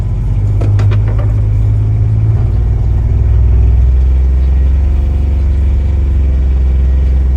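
A vehicle engine driving up a snowy driveway, a loud steady low rumble that shifts pitch as it climbs, with a few clicks and knocks early on.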